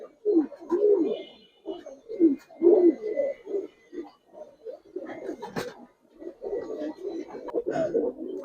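Giribaz coloring pigeons cooing close by, a run of soft, throaty, repeated coos in uneven bursts with brief pauses, several birds overlapping.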